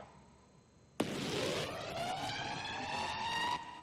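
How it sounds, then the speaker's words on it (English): After a quiet moment, a harsh, distorted synthetic tone bursts in abruptly and bends upward like a wailing siren for a few seconds, then cuts off. "It is now a horrible siren sound instead of a keyboard sound"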